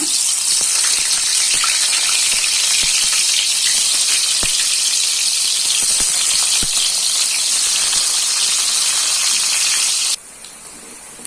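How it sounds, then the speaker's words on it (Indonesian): Tempeh sizzles and crackles steadily in hot oil, a dense loud frying hiss with scattered pops that runs for about ten seconds before dropping to a quieter simmer, with no talking. "Dan di sini sudah saya panaskan minyak. Untuk tempenya ini saya goreng ya."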